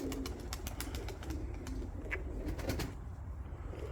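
Pigeons coo softly in a steady low murmur, with a few sharper bird calls and light flutters over continuous background noise.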